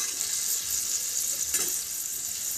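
Tomato chicken sizzles and fries steadily in a pan as a little water is added, a continuous close hiss with a brief louder burst partway through and no talking.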